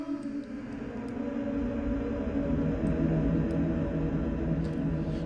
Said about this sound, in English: this is a overtly cursed digital crunchy kind of thing